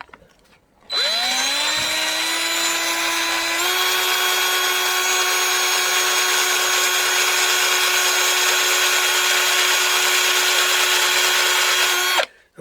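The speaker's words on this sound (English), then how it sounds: "I'm using a little bit of an angle on the drill and rotating it a tiny bit to see if I can keep that central." An electric drill bores into a VW hubcap, held at a slight angle and rotated, giving a steady, loud whine that winds up, steps up in pitch after a few seconds and then runs unbroken for about eleven seconds before stopping.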